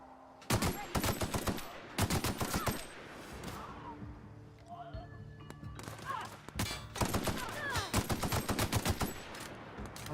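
Bursts of rapid gunfire from The Outer Worlds video game, several loud clusters of shots separated by short pauses, with game effects in between.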